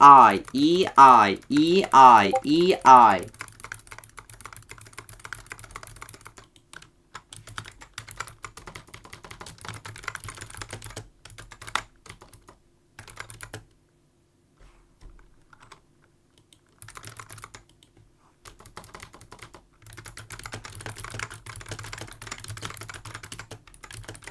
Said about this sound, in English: Press E and then I on your keyboards.